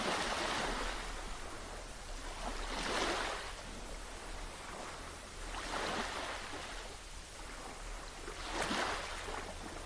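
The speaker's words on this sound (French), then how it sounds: "peut-être des vagues lentes" Slow ocean waves wash in and recede in a steady rhythm, swelling about every three seconds as soft broadband surges over a low continuous rumble, moderately distant and calm with no voices.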